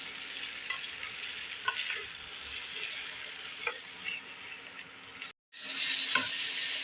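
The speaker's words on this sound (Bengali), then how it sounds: "আদা এবং রসুন পেস্ট, খুব ভালো করে সমস্ত মশলা একটু কষিয়ে নেব।" Ginger-garlic paste and spices are sautéed in a pan, with a steady close sizzle and repeated scraping stir strokes, broken by a brief moment of silence near the end before the frying resumes.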